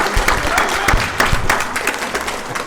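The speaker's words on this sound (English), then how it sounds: "we give you a round of applause" A round of applause at a board of trustees meeting, many people clapping together in a full, moderately loud burst with a few sharper nearby claps standing out, no speech over it.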